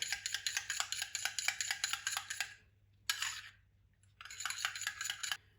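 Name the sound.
mixing egg white mixture with a spoon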